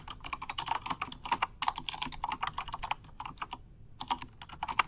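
Keys clatter on a Logitech keyboard in rapid irregular bursts with short pauses, close and fairly quiet, heard alone without talk.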